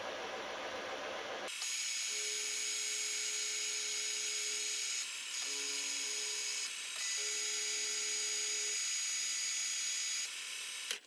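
A milling machine climb cuts around the edge of a replacement part for a failed 3D printed piece, giving a steady high cutting whine that starts abruptly and runs for several seconds with brief dips, close and alone.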